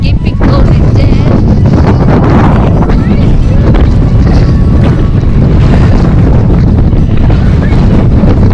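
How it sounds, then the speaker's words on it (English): Strong wind buffets the microphone on a coastal walk from Faversham to Whitstable, a loud, continuous roaring rumble that never lets up, with faint voices buried beneath it. "We love the wind."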